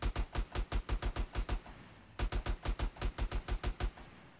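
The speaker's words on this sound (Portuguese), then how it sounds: "Tomando tiro." Rapid bursts of gunfire during a gang war in the video game GTA San Andreas, about twenty sharp shots in two quick volleys separated by a brief pause, loud and close.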